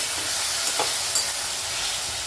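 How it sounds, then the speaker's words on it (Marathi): Tomatoes being sautéed with onions in a pan for chole masala: a continuous close, bright sizzle with a couple of faint scraping touches of the spoon, alone and without talk. "आता टोमॅटो टाकून घेऊ त्याला पण परतून घेऊ"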